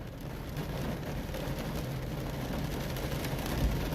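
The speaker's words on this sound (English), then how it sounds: "gotta love this rain" Heavy rain falls steadily in Adelaide on a rare very rainy day, a dense continuous hiss of rainfall with a faint low rumble beneath, even in level throughout and free of speech.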